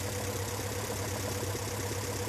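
A car engine idles with its front and rear Weber carburetors out of balance, giving a steady, close, continuous rumble with an even low throb and no voices.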